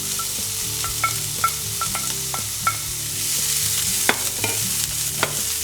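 Garlic and onion sizzling in a pan for a vegan Asturian marinera sauce, a steady close fry broken by repeated clinks and scrapes of a utensil stirring, with no voices.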